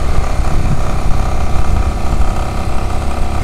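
A motorcycle ridden through São Paulo traffic near the Rodoanel, its engine droning loud and steady up close, mixed with rushing wind noise, with no talking.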